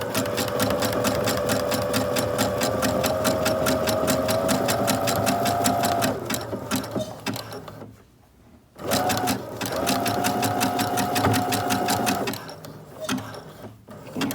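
A sewing machine stitches an appliqué under the presser foot, a steady fast mechanical whir that pauses briefly around the middle and again near the end before restarting.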